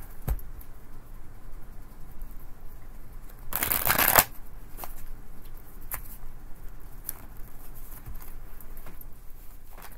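Tarot cards are shuffled in one quick riffle that lasts under a second, with soft tapping and handling noises before and after.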